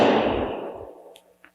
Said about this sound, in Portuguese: Os irmãos estão vendo as explosões, o povo está festejando o último dia aí de São João